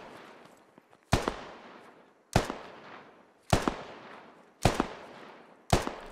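Five sharp gunshot bursts at roughly one-second intervals, each loud with a decaying echoing tail, from blind fire during a building assault in the military shooter game Squad; no talking.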